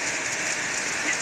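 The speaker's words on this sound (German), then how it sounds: "Bei uns hagelt, dicke, fette Hagelkörner." A dense, steady patter of hail drums on a carport roof overhead, a continuous hissing clatter close by.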